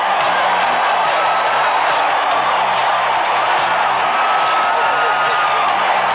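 A capacity crowd in the Dome roars and cheers steadily after a Syracuse Orangemen touchdown at a 1990 college football game, with a dense, continuous wash of voices and scattered whoops throughout.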